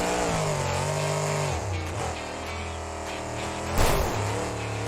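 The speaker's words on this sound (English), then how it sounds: "The most basic monster truck stunt is the jump." A cartoon monster truck revs its engine as it launches into a jump, a loud sustained motor drone that dips in pitch and surges again near the landing.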